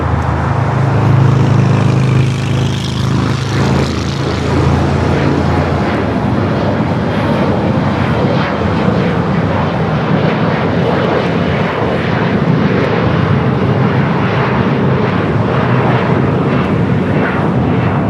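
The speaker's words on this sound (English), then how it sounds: "A380. Asiana 204 coming in from Seoul." An Asiana Airbus A380 lands at LAX with a loud, continuous jet engine roar that holds steady throughout and fills the scene, with no talk.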